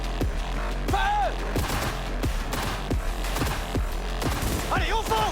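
Gunfire bursts in the video game Cyberpunk 2077, with sharp shots and booms scattered through the clip, mixed with shouted voice lines and music from the game.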